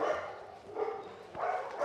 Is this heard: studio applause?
no